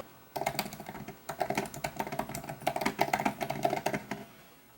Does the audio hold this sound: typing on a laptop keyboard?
yes